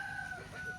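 A chicken on a rural farm gives a short, fairly faint call in a brief snippet, with low outdoor background noise.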